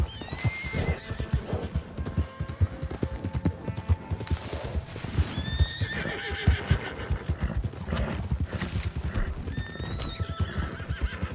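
Horses in the video game Red Dead Redemption 2, with steady clip-clopping hooves and several loud, shrill whinnies rising over the trotting, near and continuous.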